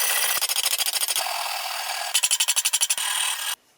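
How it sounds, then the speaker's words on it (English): A hand file rasps across a guitar part, taking off the crenellations in quick rhythmic strokes. Two bursts of fast back-and-forth scraping sit close and clear, separated by a steadier smoother pass, and there is no talk. "file off the crenellations"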